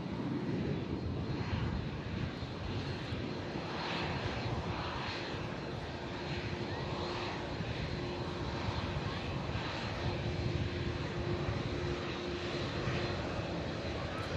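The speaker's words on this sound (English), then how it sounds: "It's probably the first time I've seen an Air Canada landing for a long time." Air Canada airliner landing at Manchester Airport, its engines roaring steadily and loudly throughout with a broad, continuous jet rumble and no speech.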